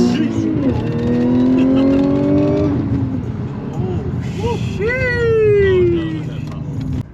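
An Audi S5 accelerates hard, its engine note rising loudly through the gears and then easing off, heard from inside the car while people talk.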